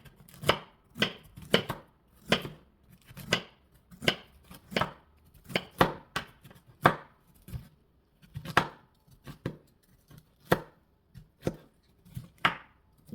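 Bitter gourd (karela) being chopped on a board, a long run of sharp knife thuds in an uneven rhythm, close and distinct with quiet gaps between strokes and no talking.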